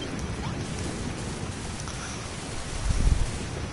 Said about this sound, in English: Nothing like a little wind and rain to break the tedium of a long voyage at sea.